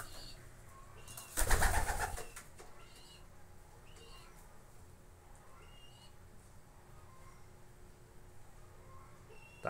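A male Belgian pigeon cooing in low, soft, repeated calls, with one brief loud rustling burst near the start.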